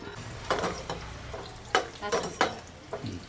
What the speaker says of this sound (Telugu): పాన్ పెట్టుకొని ఇందులో నాలుగు స్పూన్లు నెయ్యి వేసుకొని గోడంబి ద్రాక్షని ఇట్లా దోరగా వేయించుకోవాలి